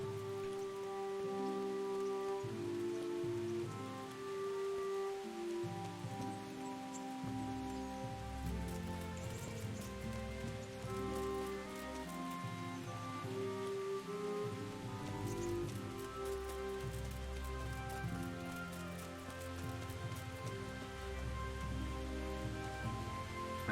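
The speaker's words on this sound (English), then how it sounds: "Constantly raining." Steady rain patters and hisses continuously over a low, droning musical score in the video game Kingdom Come: Deliverance, an even wash of sound with no talking.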